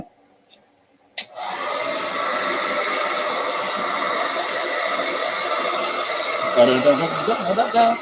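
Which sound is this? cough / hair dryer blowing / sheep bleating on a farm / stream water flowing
hair dryer blowing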